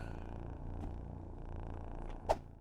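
Cat purring in Returns Outlet Simulator, a soft low continuous rumble at close range, with a faint creak partway through and a sharper knock near the end.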